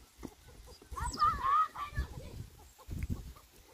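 A chicken clucks and squawks nearby in short bursts, with quiet rustling and faint background noise.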